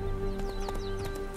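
Horse hooves clip-clopping in The Witcher 3 video game, a steady run of near hoof beats over a constant background tone of music and ambience, with no talk.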